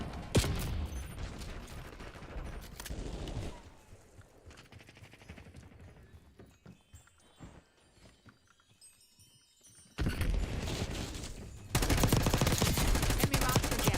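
Gunfire in a shooter video game rattles in loud, dense automatic bursts at the start, fades to quieter scattered shots and mechanical sounds through the middle, then returns as heavy, close firing at the end.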